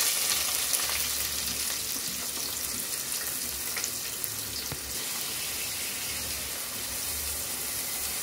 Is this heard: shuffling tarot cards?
no